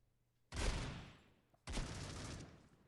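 Two heavy bursts of gunfire from the mobile shooter Critical Ops on the Mirage map, each a sharp loud crack trailing into a long echoing decay, separated by about a second of near silence.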